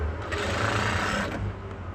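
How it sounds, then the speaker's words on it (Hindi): A sewing machine runs steadily, stitching along the edge of a plain blouse, its close, even motor hum and needle chatter continuing without pause. "इस तरीके से बिल्कुल हमें यहाँ से किनारी सिलाई डालते हुए ऊपर की तरफ आ जाना है।"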